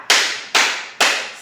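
Three crisp, evenly spaced hand claps for a tepuk semangat class cheer in a high school classroom, each loud and close with a short room ring.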